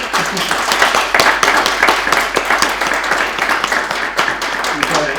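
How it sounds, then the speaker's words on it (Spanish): Audience at a book presentation applauds the author Eduardo with steady, moderately loud clapping, individual hand claps standing out within the crowd sound. "Ahora lo que pediría es un aplauso para Eduardo"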